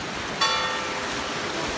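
A cathedral clock bell strikes once and rings out briefly in a seaside town in Sitges, Spain, a single clear chime over steady wind and surf noise.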